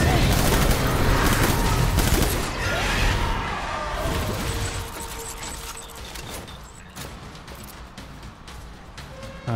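Rapid gunfire emptying a magazine in the video game Death Stranding, a dense continuous barrage of shots with crashing impacts, loud and busy, tapering slightly toward the end.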